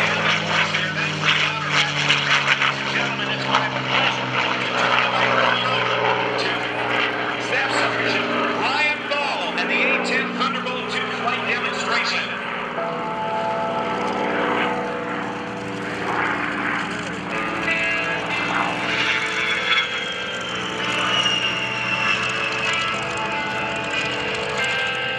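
A World War II P-51 Mustang propeller fighter passes at an airshow, its loud engine drone rising and shifting as it flies by, with a commentator talking over it throughout.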